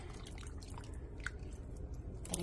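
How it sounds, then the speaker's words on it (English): A big can of Campbell's tomato juice glugs into a large soup pot in a home kitchen, a steady close liquid splash with faint drips throughout and no speech. "I'm gonna add my 1 big can of Campbell's tomato juice. You can use whatever brand, that's just what I have. Pour that in there."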